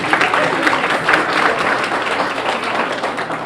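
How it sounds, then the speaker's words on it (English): An audience at a nurses association award event breaks into sustained applause, dense steady clapping from many hands at close range throughout. "Give her a round of applause."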